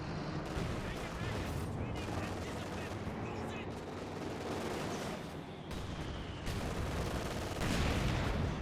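Mortar half-track and battlefield fire in Company of Heroes 2, with dense bursts of gunfire, machine-gun rattle and explosive thumps crowding the scene continuously, with a brief lull before louder blasts near the end.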